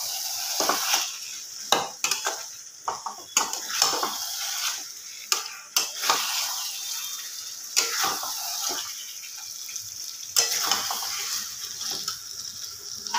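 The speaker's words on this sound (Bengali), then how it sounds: "গ্যাসটা একটুখানি বাড়িয়ে দিয়েছি, একটু ভালো করে কষে নেব শুধু।" Chicken being sautéed in a pan over raised heat sizzles, and a spoon scrapes and stirs it in repeated bursts that come close and clear.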